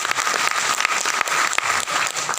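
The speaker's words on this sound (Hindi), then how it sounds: "तो एक बार चाहूंगा आप पूरी फैमिली के एक बार जोरदार ताली।" Enthusiastic audience applause for a family at a live event, dense steady clapping from a crowd throughout with no talk over it.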